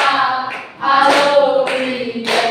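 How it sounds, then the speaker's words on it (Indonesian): A group of students in a classroom clap their hands along to a song, sharp claps landing roughly every half second over loud, sustained group singing. "tepuk tangan semuanya"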